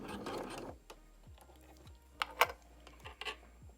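A sewing machine back stitches along a zippered box pouch, giving a row of quick, evenly spaced mechanical clicks and whirring needle strokes up close, with a burst of fabric rustling at the start and a few handling noises later.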